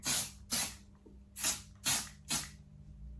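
Five quick hissing bursts of hairspray from an aerosol can, evenly spaced with short pauses between them, close and fairly soft.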